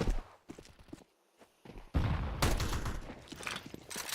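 A Tec-9 pistol fired during a competitive Counter-Strike match, with sharp separate shots early on and then a thicker, louder burst of gunfire that fills the second half.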